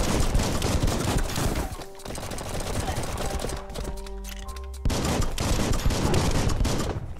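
Gunfire from a weapon in the video game Biomutant, dense rapid bursts like a fusillade that pause briefly in the middle and then resume, loud and continuous over steady game background sound.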